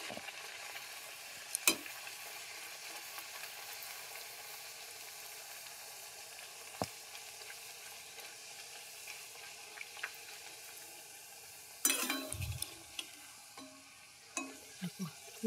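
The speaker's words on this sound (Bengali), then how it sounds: "আবার একখানা দিয়ে দেবো, এই করে এরকম করেই আমি সব কটা পুরি ভেজে ফেলেছি" Palak puri fry in hot oil with a continuous soft sizzle, broken by occasional clinks and stirring sounds near the pan.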